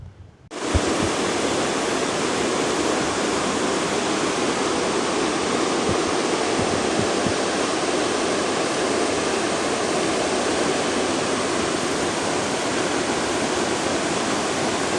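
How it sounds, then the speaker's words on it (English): A strong, fast-running river roars loud and close, a dense, unbroken rush of water that fades in quickly and holds steady throughout, with no voices. "a strong, fast-running river like this. It's so awesome."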